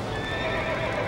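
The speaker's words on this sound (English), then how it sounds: "that's Jiminy's horse" Horse in the video game Sakura Wars 5 gives a short, loud neigh over dense game sound.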